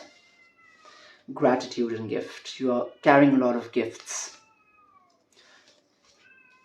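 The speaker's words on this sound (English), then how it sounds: "there's a cat screaming outside" A cat yowls and screams outdoors while someone talks over it close by, the drawn-out wailing cries rising above her voice in short bursts.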